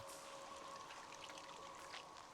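Water trickles steadily through dark caverns in the game Tsukihime: A Piece of Blue Glass Moon, a continuous hissing flow that stays even and unbroken throughout.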